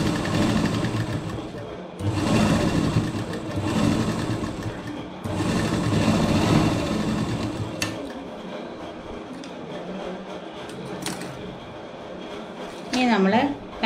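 A sewing machine stitches a simple petticoat, running in three long, steady whirring bursts before quieter handling, with a brief voice near the end.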